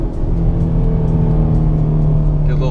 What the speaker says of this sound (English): Get a little downshift in there.